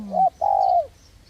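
A single decoy bird gives a short, sweet call of two notes, clear and close, followed by quiet.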